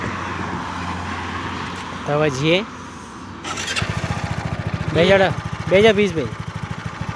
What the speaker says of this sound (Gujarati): તો રાઘુબા હું બાઇક ચાલુ કરી છે